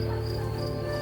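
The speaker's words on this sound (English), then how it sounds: "just listening to the crickets" Dense chorus of crickets trilling steadily outdoors on an ordinary night, a continuous high, even buzz with layered chirping held at a constant level throughout, no voices.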